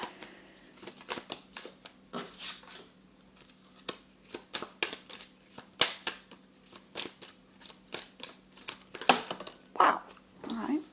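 Marseille tarot cards are shuffled in quick irregular bursts of crisp riffling and slapping, close up, with brief pauses between handfuls.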